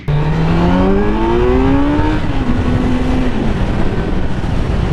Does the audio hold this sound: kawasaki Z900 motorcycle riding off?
yes